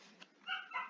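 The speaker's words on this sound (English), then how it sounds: "We have dogs barking in the background here." Dogs bark a few times in the background at a British railway station, faint and distant, with two clearer bursts toward the end over a steady ambient hum.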